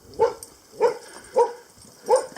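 A dog gives four evenly spaced short, whiny barks, close by and fairly loud, each with a plaintive whimpering edge.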